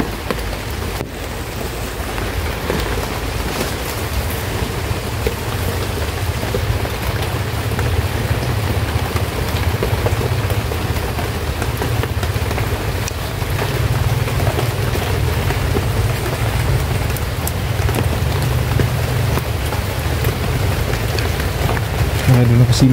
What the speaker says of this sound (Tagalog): Palakas na yung ulan.